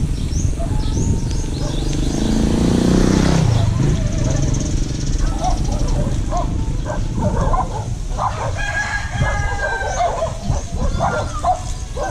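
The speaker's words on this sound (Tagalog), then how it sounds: "Pasensya na po kayo sa ingay ng mga aso" Several dogs barking repeatedly outdoors over a loud, noisy background, with a rooster crowing somewhere in the mix.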